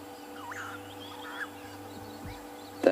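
Out in the African bush, a starling gives short, nasal, quack-like calls that imitate a duck, faint and scattered over a low steady hum, with a sharper sound near the end.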